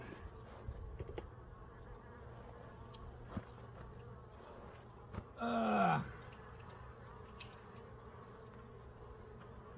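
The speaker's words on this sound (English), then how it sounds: "I just see bees diving." A single bee buzz swells up briefly, a droning hum with a falling pitch, over steady outdoor background noise and faint ambient sounds near beehives.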